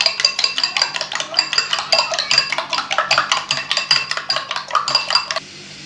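Two eggs are whisked in a bowl with a fast, regular series of sharp clinking strokes, loud and close for about five seconds before stopping abruptly, with no talk.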